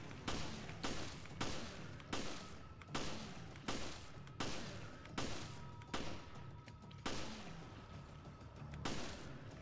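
Gunfire in Resident Evil HD Remastered, a steady string of loud, punchy shots repeating roughly every second for the whole stretch.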